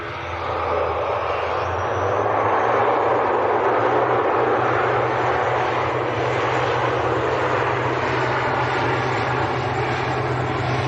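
Aer Lingus airliner departing Manchester Airport for Dublin, its engines building into a loud, sustained roar with a low steady drone underneath, heard alone without talk.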